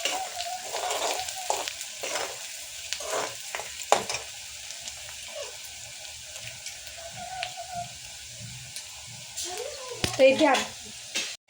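Sliced onion frying until pink in a pan, with a steady sizzling hiss under the mix, occasional stirring scrapes, and a voice speaking briefly in the background.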